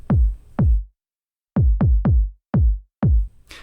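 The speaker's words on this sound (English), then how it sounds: "you'll frequently hear a skipped kick on the final bar of an 8-bar loop" Punchy, deep tech house kick drum hits play alone in a steady pattern with one beat skipped at the end of an 8-bar loop, then resume; each thump is short and booming.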